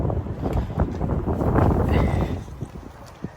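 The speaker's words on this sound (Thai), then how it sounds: "ตอนนี้ลมแรงมาก" Strong wind blows outdoors near a UK Marks & Spencer store, producing steady loud gusting and buffeting noise on the microphone, with faint footsteps and rustling.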